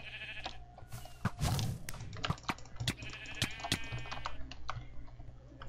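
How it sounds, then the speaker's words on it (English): Sheep bleat repeatedly in the video game Minecraft, several short wavering cries spread across the moment, mixed with quick clattering keyboard clicks and a soft game background. "We need to get rid of their sheep now."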